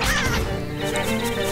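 A crow in the Nintendo Switch game Link's Awakening caws loudly after being struck by a thrown object, a short, close, harsh cry with an impact at the start and no talking over it.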